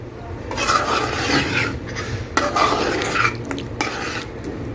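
A spoon scrapes and stirs around a metal pot, mixing cream into white chicken korma in steady, close, scraping strokes with a few knocks against the pot, and no talking.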